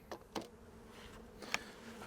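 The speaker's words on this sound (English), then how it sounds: "the bees will be able to come up and basically take all they need from it" Soft bee buzzing at low volume, with a few brief faint rustles and a small click partway through as honeycomb is set down.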